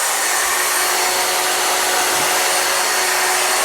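An Evolution R255TBL+ saw runs steadily throughout, a loud, constant broadband roar with a faint steady hum and no pauses or voices.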